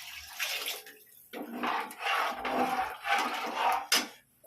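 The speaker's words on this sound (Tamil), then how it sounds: "இன்னொரு சொம்பு தண்ணியும் ஊற்றுறேன்" Water pours in several splashy bursts into a cooking pot of rice for mutton biryani, close and fairly loud, with short pauses between pours.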